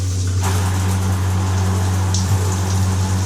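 Shower water runs inside a Sprinter camper van: a steady, close hiss of spray with a low, constant pump-like hum underneath, no pauses.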